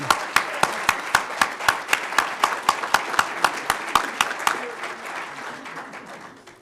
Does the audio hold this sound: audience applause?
yes